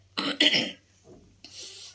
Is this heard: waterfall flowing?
no